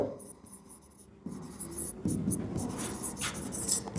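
A pen scratches across paper in steady short strokes while writing out an English assignment answer, close and quiet, with someone speaking over the writing.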